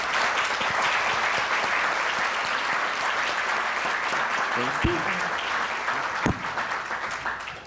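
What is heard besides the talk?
audience applauding conference panelists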